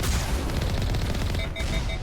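Heavy cannon fire in the sci-fi video game Mass Effect, a dense burst of booming, crackling blasts filling the whole moment, loud and close with no talking.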